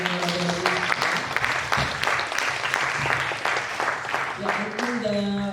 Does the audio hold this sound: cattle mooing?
no